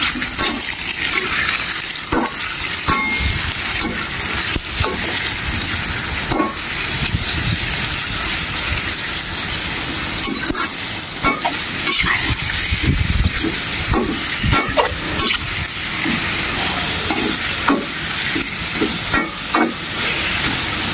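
Beef stir-fries in hot cooking oil, with turmeric, in a loud, continuous sizzling hiss, punctuated by frequent clicks and scrapes of stirring.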